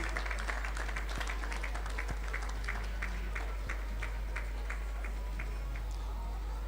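An audience at a graduation ceremony claps steadily and loudly, with dense continuous applause and a few louder individual claps standing out, over a constant low hum.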